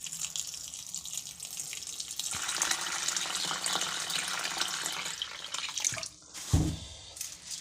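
Water pours steadily onto a kilogram of lentils in a container to soak them overnight, a close, continuous rushing splash that ends with a brief gush and drips.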